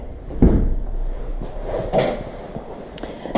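A door in a house with granite counters and a wet bar is handled, giving a thud near the start and a second bump about 1.5 seconds later, close and fairly loud, with faint knocks after.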